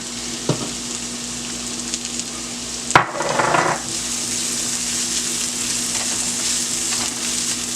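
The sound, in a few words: onions and garlic sautéing in a pan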